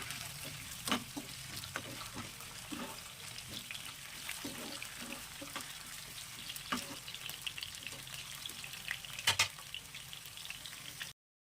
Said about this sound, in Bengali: এবারে টুকরো করে কেটে রাখা আলুগুলো ভেজে নেব